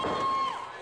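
A wrestling crowd cheering during a ladder match: a steady, full roar of voices with a high whistle riding over it, fading slightly toward the end.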